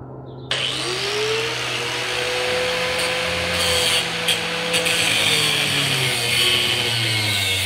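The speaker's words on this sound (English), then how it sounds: "So we're going to cut that off here with the grinder." An angle grinder cuts through metal on a barn floor, its motor whining steadily after a sudden start with a continuous loud grinding rasp that runs throughout.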